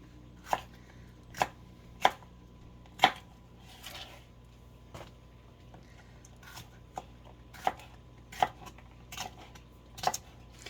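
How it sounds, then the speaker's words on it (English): Knife chopping sweet peppers into big rounds on a cutting board, with crisp, close, separate thunks coming every second or so and quieter handling noises between the cuts. "I'm cutting the rounds kind of big"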